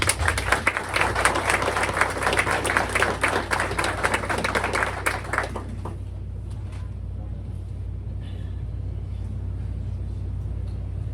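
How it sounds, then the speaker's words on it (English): Applause from an audience at a county Republican committee meeting, a dense burst of clapping for about five seconds that cuts off abruptly and leaves a low steady room hum. "So give her a round of applause."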